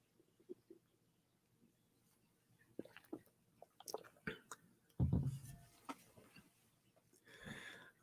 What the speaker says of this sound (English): mindful of drinking and swallowing on a microphone, not trying to make too many loud gulp noises